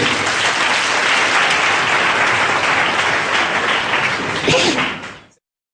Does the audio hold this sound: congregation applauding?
yes